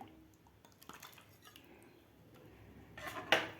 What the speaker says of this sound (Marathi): थोडं थोडं करून आपल्याला चमच्यानं हलवत हे पीठ व्यवस्थित मिक्स करायचं आहे